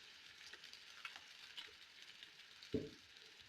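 Chicken pieces fry in oil in a pan, giving a faint, steady hiss of sizzling with a soft clatter of stirring near the end, heard alone without talk.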